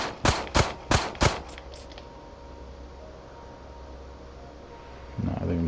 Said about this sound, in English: I think I'm still shooting too low